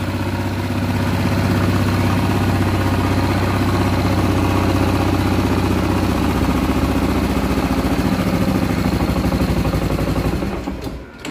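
A small pull-start engine on choke runs steadily at a fast, loud idle close by for about eleven seconds and then fades briefly near the end.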